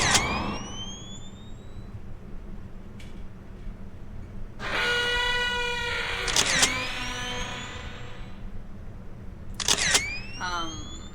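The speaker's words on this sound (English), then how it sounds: "Push the shutter" Camera shutter effects from the video game Love Sam: bright rising chirp tones and sharp clicks repeat in a few distinct bursts over a steady low background hum.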